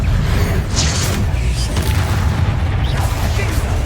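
A Confringo blasting spell erupts in Hogwarts Legacy, a loud, sustained low rumbling boom with crackling bursts layered on top, continuous for several seconds.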